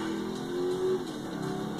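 A fast car drives in GTA 5, its engine humming steadily at a moderate distance with a brief rise in revs, plus faint game background sounds.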